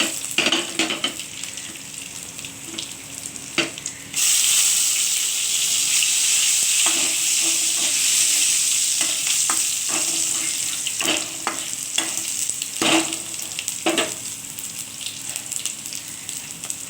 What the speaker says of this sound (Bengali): ভালো করে এটাকে তেলের সঙ্গে ভেজে নেব। দিয়ে দেবো গোটা গোটা গরম মশলাটা।